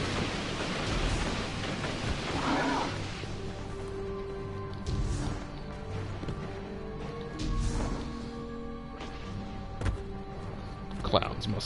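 Explosions and gunfire from the video game Destiny, with repeated booming bursts and crashes at irregular intervals over a constant roar of background noise, some near and loud, others more muffled.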